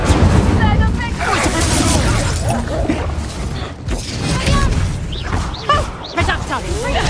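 Spell effects crackle and burst in Hogwarts Legacy combat, including the Incendio fire spell, a dense, loud wash of whooshes, crashes and bursts with overlapping game voices and shouts throughout.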